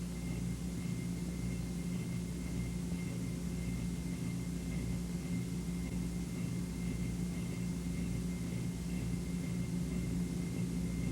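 A CH-47 Chinook twin-rotor military helicopter drones steadily and loudly throughout, a constant low rumble with a thin whine above it that neither rises nor fades.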